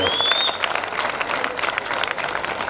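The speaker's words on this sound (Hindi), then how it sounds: "एक बार जोरदार तालियां" Loud, steady applause from an audience at a Hindi poetry gathering held during a Dussehra fair in Banswara, dense clapping filling the whole stretch after a brief whistle-like tone at the start.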